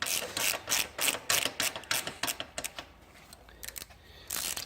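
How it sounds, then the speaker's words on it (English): A 12mm socket ratchet clicks in rapid rhythmic bursts while it loosens the shock bolts on a Triumph Thruxton 900 motorcycle. The clicking is close and clear and slows into scattered ticks near the end. "The only thing you'll be needing is a 12mm socket to remove both the upper and lower bolts on the shock."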